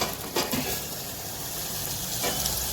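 Onion and tomato sizzle steadily in a hot pan while a masala for mung beans cooks, with a couple of soft spoon stirs and scrapes over the continuous frying hiss.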